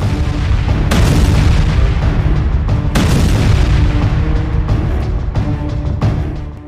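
A rocket barrage strikes soldiers' barracks in a war zone, producing loud, rumbling booms that roll on continuously, with sharper bursts hitting about every two seconds and a deep low-end thunder throughout.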